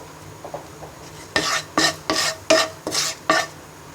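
Flour frying in ghee for a white pasta sauce is stirred around a pan in about six distinct scraping strokes, each a short rasping sweep, close and fairly loud, with no talking.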